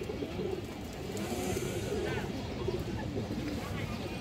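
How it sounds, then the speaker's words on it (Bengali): Domestic pigeons cooing in a group of pairs kept for sale, soft low repeated coos mixed with busy background noise and a voice talking. "দর্শক এই দেখেন একটা নর কবুতরটা"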